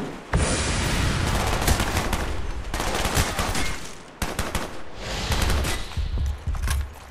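Dense, loud gunfire in the video game Call of Duty: Black Ops on PC, rapid sustained bursts filling nearly the whole stretch with a brief break midway.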